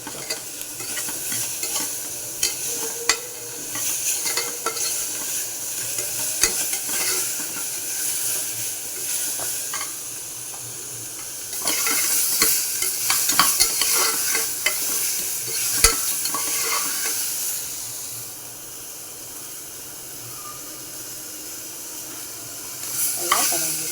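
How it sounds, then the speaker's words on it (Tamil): Millet upma masala sautéing in a pan, a steady sizzle and hiss broken by repeated scraping strokes of a spoon as it is stirred, louder in the middle, with no talk. "நல்லா கலந்துருச்சு. நல்லா வதங்கிடுச்சு."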